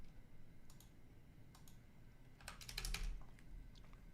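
Sparse, quiet keystrokes on a computer keyboard, arriving in small scattered clusters with a denser burst of rapid clicks near the end, close and alone in a hushed room.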